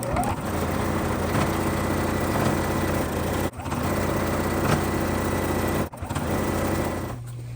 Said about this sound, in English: I'm just going to look ahead to where the next intersection is and just drive my machine right to there